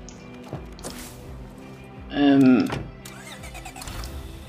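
A car engine starts in the zombie survival video game State of Decay 2, a brief grinding crank that catches into a short rising rev, set among other game noises with a voice faintly present.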